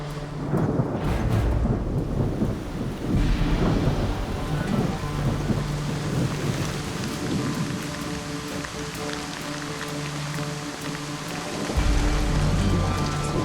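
Heavy rain pours steadily outdoors with thunder rumbling through it, loud and continuous from start to finish, during a German survival reality show camp in wet weather.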